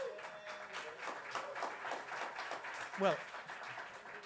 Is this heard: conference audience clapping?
yes